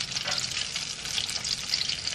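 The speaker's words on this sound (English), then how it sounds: "You guys hear that sizzle?" Korean cheese corn dogs sizzle in hot frying oil, a steady close-up crackle and hiss with no voices.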